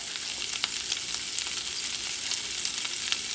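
Salchichon sausage browning in a pan for rice, a steady close crackling sizzle with bright popping spits throughout, no talking.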